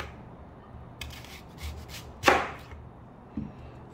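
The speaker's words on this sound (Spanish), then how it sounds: "Vamos a cortar unas rebanadas de cebolla." A kitchen knife slices rebanadas of onion on a cutting surface for a carne asada and sausage stew: a few soft, separate cuts, one crisper and louder stroke in the middle, fairly close with no voices.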